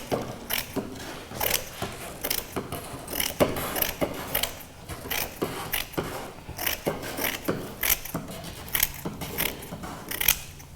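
Scissors cut fiberglass cloth while a kayak is glassed inside, a run of crisp snipping and clicking strokes in an irregular rhythm, close and fairly quiet, with no voices.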